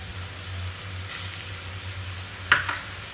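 Beans and potatoes frying in a pan for an aloo beans dish, a soft continuous sizzle with a low steady hum beneath and a brief stir or clink near the end.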